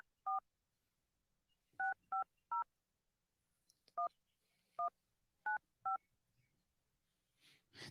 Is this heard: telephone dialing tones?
yes